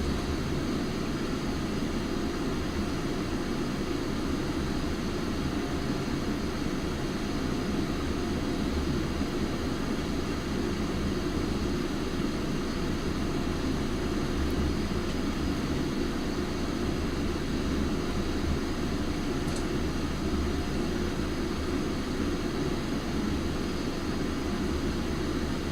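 An airliner's engines roar in a flight simulator during departure, a steady, unbroken hum and rumble with a broad noisy hiss, holding constant and without talk.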